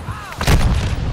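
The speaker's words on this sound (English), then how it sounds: "They're shooting at me!" A short burst of enemy gunfire in Modern Warfare 2, with a loud, close crack and rumble standing alone.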